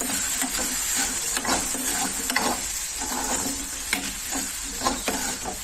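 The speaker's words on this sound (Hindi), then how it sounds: "अब हम इसको चलाएंगे।" Spiced potato-free stuffing seasoned with black pepper, coriander powder, amchur and salt sizzles in a pan while being stirred, a steady frying hiss broken by repeated scraping spoon strokes, close and alone without talk.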